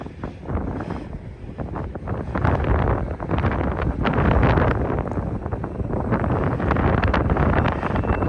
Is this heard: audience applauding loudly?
no